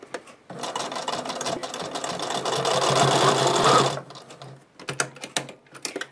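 A sewing machine stitches quilt binding toward a corner in one steady, loud run of about three and a half seconds. Shorter bursts of stitching and handling of the fabric follow.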